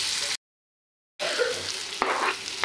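Tomato tipped into a pan of sizzling onion and chillies, a steady frying hiss that cuts out briefly and then returns with a sharp stir or drop, close and with no speech.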